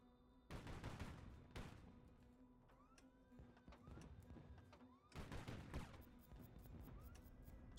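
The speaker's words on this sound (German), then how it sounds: "Oh, da kommt heftiges Feuer zurück." Bursts of heavy gunfire crack out in volleys, with whizzing and mechanical clatter between them, loud and close in a busy battle scene in the video game HighFleet.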